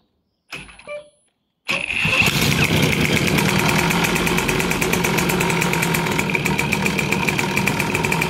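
The BIG DEPS 4 engine cranks briefly, pauses, then fires up and runs steadily at a close, loud idle with a buzzing, evenly pulsing tone.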